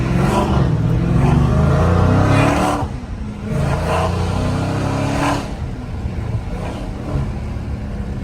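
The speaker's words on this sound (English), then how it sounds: "to hear the engine" A Dodge Challenger Scat Pack with the 392 engine revs loudly and accelerates on a night city street in Philly, a deep roaring climb that eases, then surges again, heard close from inside the car.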